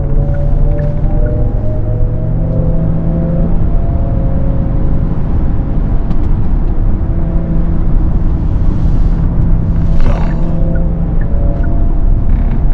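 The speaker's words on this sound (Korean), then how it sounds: "지금 곡선 구간에 돌입을 해서 잠깐 가속을 해보겠습니다" A Genesis GV70 electric car with all-wheel drive accelerates through a curve, heard from inside as a loud, steady road and tire rumble with a faint motor whir, constant throughout.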